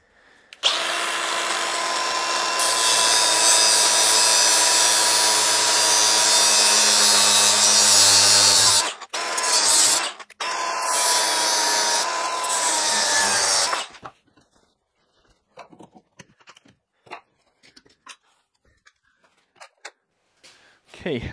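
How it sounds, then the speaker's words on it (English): An angle grinder cuts a steel plane blade in half, giving a loud, harsh, sustained whine close by for about nine seconds. A brief pause follows, then a second long grinding pass, then quieter scattered clicks and handling sounds. "let's try and cut this in half with the grinder."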